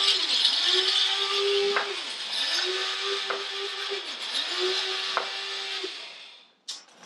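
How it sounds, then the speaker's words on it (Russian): An electric coffee grinder runs indoors in three steady whirring bursts of about two seconds each with brief dips between them, fairly close and alone, ending in a short clatter. "Как, это не мясорубка, а... Это кофемолка."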